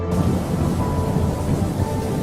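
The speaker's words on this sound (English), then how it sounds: "a violent storm sank his ship" Thunderstorm sound effect of a violent storm at sea: a dense, loud, continuous roar of heavy rain with rumbling thunder underneath, steady throughout with no voices.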